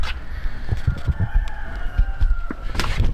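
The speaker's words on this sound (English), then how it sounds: "Here are the roosters." A rooster crows with a long drawn-out call, and another faint crow follows near the end, over clucking and low thumping noises.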